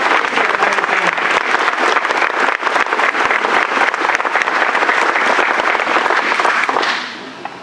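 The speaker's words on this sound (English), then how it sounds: "Big hand of applause." Audience at a Greg Abbott event in Lubbock, Texas applauding: a loud, dense, continuous burst of clapping from a large crowd that holds steady for several seconds, then tapers off at the close.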